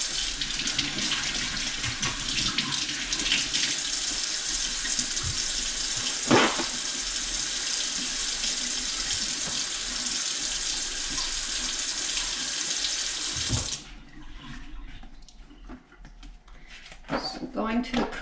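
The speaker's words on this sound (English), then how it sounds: "always wash your hands before cooking" Cold water pours steadily from a kitchen tap for handwashing before baking, a constant close rushing hiss that cuts off abruptly near the end, leaving a quieter room with small handling noises.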